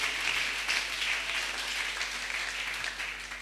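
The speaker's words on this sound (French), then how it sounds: "j'invite l'église à acclamer la parole de Dieu" A church congregation applauds and cheers together during a worship service, a steady, dense wash of clapping that fills the room evenly from start to finish with no talking over it.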